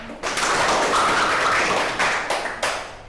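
A classroom audience of students claps in a short burst of close, loud applause that fades out with a few last separate claps.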